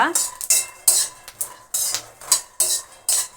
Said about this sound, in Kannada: ಕಬ್ಬಿಣದ ಹಂಚಲ್ಲಿ ಹುರಿದು ನೋಡಿ ಟೇಸ್ಟ್ ತುಂಬ ಚೆನ್ನಾಗಿ ಬರುತ್ತೆ